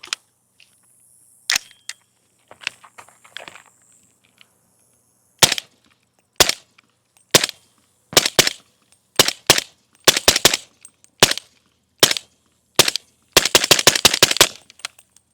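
Subsonic 190-grain 300 Blackout rounds fire from a rifle outdoors as a string of loud, sharp cracks. The shots come a second or so apart at first, then speed into a quick cluster at the end.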